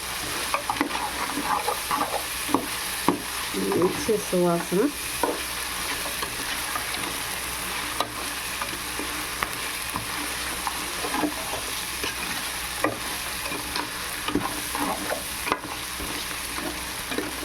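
Prawn biryani masala frying and being stirred in a pan, a steady sizzle running throughout with intermittent scraping stirs, close up, with a few brief spoken words.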